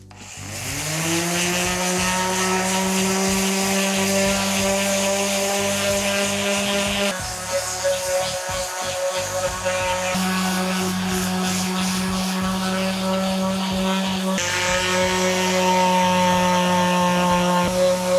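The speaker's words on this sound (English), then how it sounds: "Did another quick little sand with the 60, then went over it with the 120." A power sander with 60 then 120 grit works over a Harley-Davidson stunt build's tank, a loud, steady droning motor whine whose pitch drops and shifts a few times.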